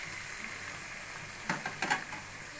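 Hilsa fish pieces dropped into hot spiced masala and oil, a steady low sizzle jumping into two brief louder bursts of spitting fry as the fish goes in.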